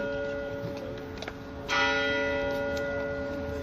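Church bell ringing at an outdoor vigil, a sustained metallic tone with a fresh strike partway through that swells louder and rings on with long overtones.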